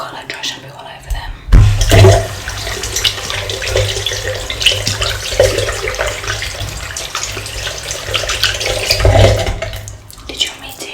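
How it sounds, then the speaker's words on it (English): Hands are washed under a running tap, with steady gushing and splashing water close by for most of the span, louder bursts when the flow starts and near the end, and soft speech underneath. "I'm just going to wash my hands because I've got like dry shampoo all over them."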